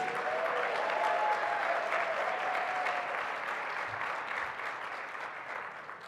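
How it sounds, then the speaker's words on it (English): Audience at a human rights awards show applauds its awardees, a sustained, dense wash of clapping that stays loud throughout and eases slightly toward the end, with no talk over it. "Let's give one more round of applause to all of our awardees."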